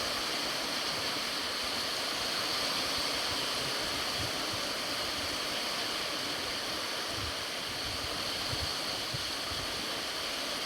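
A steady, unbroken wash of rushing water fills the scene, a broad roar of coastal surf at a fishing shore with no distinct breaks or voices.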